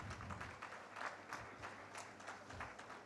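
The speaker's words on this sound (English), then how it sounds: "Can I have a round of applause," A conference audience at a defence procurement session gives a faint, distant round of applause, the clapping steady and even for a few seconds.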